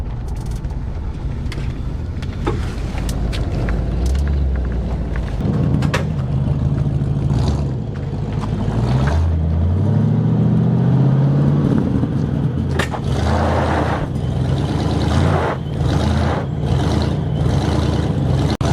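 A stuck truck dug into a hill strains in reverse, its engine revving up and down in repeated surges with shifting pitch, loud and close, with brief clanks and hisses between efforts.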